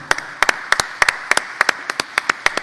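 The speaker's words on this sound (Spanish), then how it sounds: "Un aplauso para nuestros ponentes, por favor." A few people clap in a sparse, uneven rhythm, the individual claps sharp and distinct rather than blending into a crowd.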